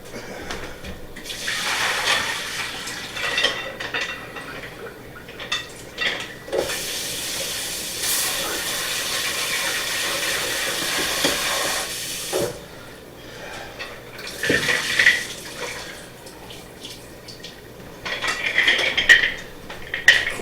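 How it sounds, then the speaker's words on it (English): Clams being rinsed in a pot under running tap water, a steady rushing hiss with clinking shells and pot clatter, close and continuous with brief pauses, no talking. "I'm going to go ahead and I'm going to rinse these off"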